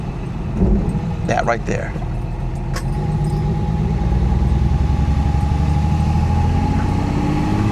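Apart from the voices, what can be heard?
1969 Mercedes 280SE driving and shifting gears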